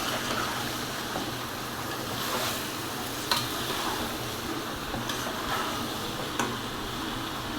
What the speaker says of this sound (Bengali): চুলা বাড়িয়ে দিয়ে এটাকে ভাজা ভাজা করতে হবে একটু। এখন ভেজে নিতে হবে।